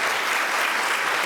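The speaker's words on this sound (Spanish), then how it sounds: "Aquí un aplauso por favor para Sudemar" Dense, steady applause from a large audience at a Latin American summit in Miami, loud and continuous with no pauses or voices over it.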